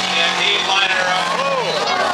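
Four-cylinder cars bashing into each other in a demolition derby heat, with loud, steady engine roar throughout and a crowd voice talking over the action.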